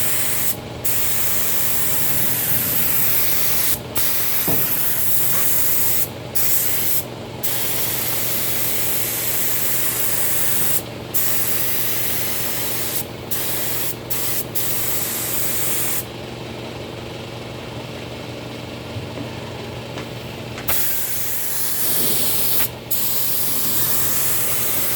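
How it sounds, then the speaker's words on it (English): A spray gun lays primer onto a truck bed floor in steady, continuous hissing passes, broken by brief pauses between strokes, with a quieter stretch partway through before the loud spray resumes, close up and without talk. "you can spray a little heavier on the floor"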